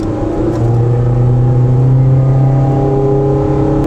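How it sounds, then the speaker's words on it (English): A 2021 Honda Amaze with a CVT gearbox revs hard under acceleration, giving a steady, loud, continuous drone with no gear shifts. The engine note holds and rises gradually across the pull, heard from inside the car. "there is a lot of noise coming in from the engine at higher revs"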